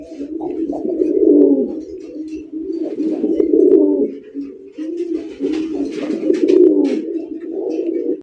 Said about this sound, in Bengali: এখানে রয়েছে আরো এক জোড়া কালারিং রাজগোল্লা কবুতর